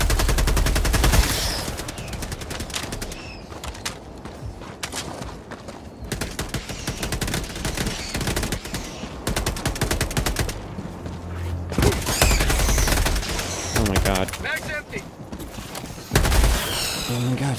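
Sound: gunfire in the video game Helldivers II

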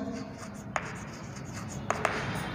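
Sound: writing on a board

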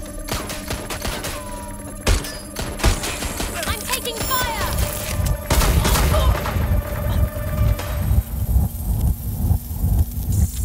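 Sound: gunfire in Watch Dogs Legion (video game)

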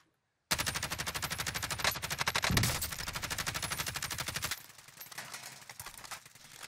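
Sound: gunfire in Call of Duty Warzone video game

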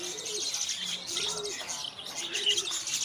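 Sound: Javan pied starling chicks chirping

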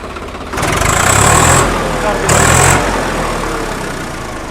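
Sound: Swaraj 855 tractor engine started with self-starter, running

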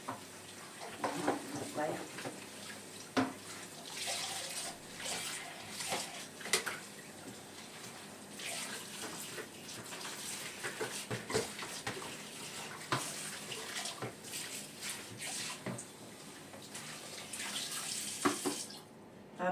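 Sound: hot water running from a kitchen tap

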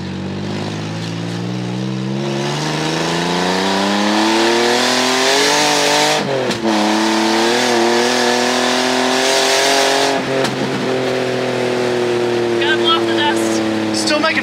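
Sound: car engine revving and tires squealing during handbrake test

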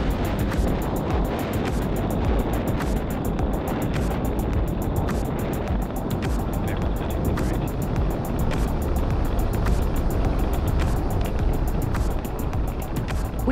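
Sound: Falcon Heavy rocket launch engine roar

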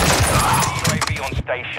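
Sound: gunfire in Call of Duty Modern Warfare II Warzone video game

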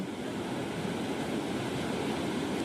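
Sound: wind and water at Napeta reservoir

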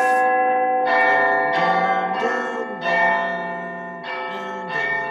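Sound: Big Ben church bell chiming

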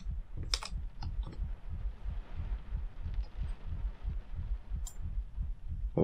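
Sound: heart beating in the video game Layers of Fear

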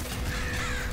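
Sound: crow cawing in video game Nuclear Throne

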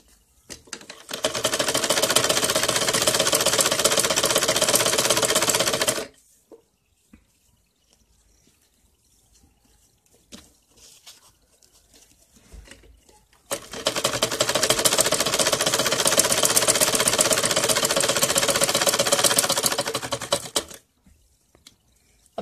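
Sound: sewing machine stitching a salwar

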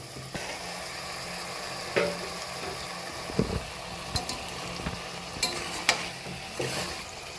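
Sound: eggs frying and being stirred in biryani masala

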